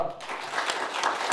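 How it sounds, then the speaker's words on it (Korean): A church congregation claps briefly in thanks for a visiting pastor at a deacons' dedication service, giving a short burst of diffuse, moderately loud applause. "이성규 목사님께 감사의 박수 한번 치겠습니다."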